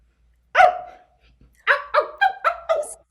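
A dog barks once, pauses, then lets out a quick run of four or five sharp barks close by, with no other sound between them.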